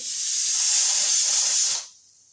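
A loud, steady hiss of steam from a pressure cooker cooking tapioca, lasting about two seconds, then cutting off abruptly into quiet.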